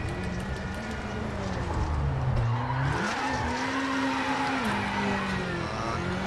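A rally car slides through a handbrake turn on a gravel stage of Rally Finland in the WRC7 racing game, the engine note dipping and rising with tyre scrabble under a steady co-driver-style voice.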